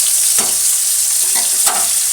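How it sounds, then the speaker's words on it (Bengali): Cabbage fries in a pan with a loud, continuous sizzle, broken by a few sharp scraping stirs of the spatula. "বাঁধাকপিটা ভাজা হয়ে গেছে"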